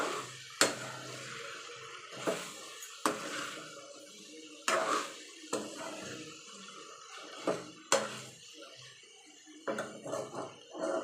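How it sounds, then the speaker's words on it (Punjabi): A metal ladle stirs and turns a potato and capsicum curry in a pan, with irregular clanks and scrapes against the metal, several sharp knocks among softer shuffling, fairly close. "ਹੁਣ ਅਸੀਂ ਤੇ ਵਿੱਚ ਕੜਛੀ ਮਾਰ ਕੇ ਪਲਟੀ ਦਵਾਵਾਂਗੇ"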